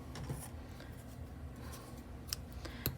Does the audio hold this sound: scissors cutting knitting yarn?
yes